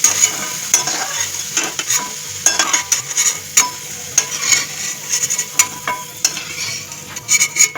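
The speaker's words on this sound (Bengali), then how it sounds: "আলুগুলোকে তুলে নিচ্ছি" Fried potatoes being lifted out of sizzling oil, a bright crackle of frying broken by repeated sharp clinks and scrapes of a utensil in the pan.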